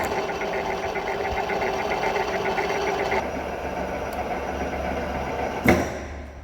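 A Kitchen & Walker horizontal facing boring machine runs at its slowest speed of 17 RPM, giving a steady mechanical drone with a faint rhythmic knocking and one sharp clunk near the end.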